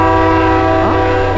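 South Coast Rail train passing the Berkley grade crossing at night, a loud sustained horn blast with layered tones over the rumble of rolling cars, very close.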